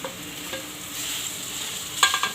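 A spoon stirs mashed potato kachori filling with turmeric and chutney in a pan over low heat, giving soft scraping and faint sizzling, with a sharper clatter near the end.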